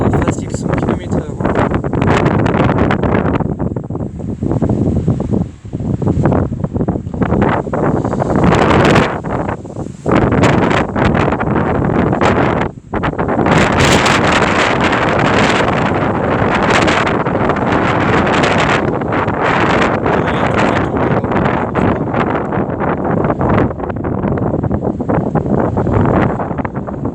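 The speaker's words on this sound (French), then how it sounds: "Là, c'est une bourrasque à facile 100 km/h." Violent storm wind gusts of around 100 to 120 km/h in the Rhône, roaring loudly and continuously into a handheld camera's microphone, buffeting and swelling in surges throughout, with a voice briefly audible under the din.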